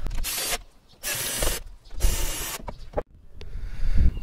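Two screws being driven back in with a ratchet while refitting a small cover inside a Tesla frunk, giving quick bursts of clicking ratchet strokes separated by short pauses, close and fairly loud with no talk.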